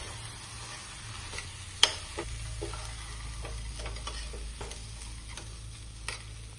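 Masoor lentils being stir-fried in a pan give a low, steady sizzle throughout, with faint scraping and tapping from the stirring spoon.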